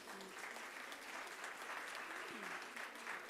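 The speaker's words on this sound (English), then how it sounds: "we must clap for her for doing a very good job." An audience claps steadily at a conference hall in Durban, the applause faint and even throughout with no talk over it.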